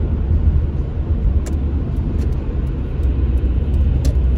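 A bus pulling out and driving past a courier on a city street, a loud steady rumbling engine close by throughout, with brief higher clicks and squeaks on top and no talk.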